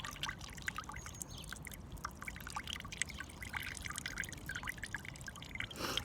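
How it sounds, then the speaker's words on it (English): Water poured from a small container into a bottle during children's water play, a steady close trickle with dripping and splashing that runs for several seconds. "pouring the water into the bottle"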